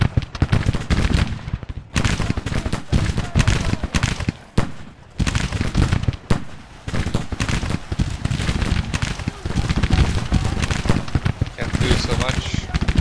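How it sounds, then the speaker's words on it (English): Cannons in a Civil War battle game blast canister shot at infantry brigades and detachments, a dense run of loud, sharp booms and crackling volleys that rattle on for several seconds. "the cannons are now turning around to canister these brigades and detachments"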